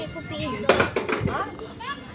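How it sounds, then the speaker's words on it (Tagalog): Children playing outdoors at a barbecue gathering, their shouts and chatter rising in short lively bursts close by, mixed with adult talk. "Mga bata pa'y gadwa-dwa."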